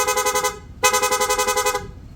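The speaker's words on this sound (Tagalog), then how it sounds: "Switch sa PIA horn." A PIA rapid horn on a Honda ADV160 motorcycle blares in two close, loud bursts of fast pulsing tone, the first about half a second, a brief gap, then a longer one of roughly a second.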